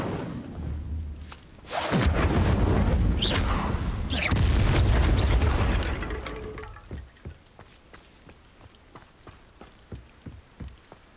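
Incendio fire spell cast in Hogwarts Legacy: a loud whooshing roar of flame that swells for about four seconds, then breaks into sparse, crackling pops that fade away.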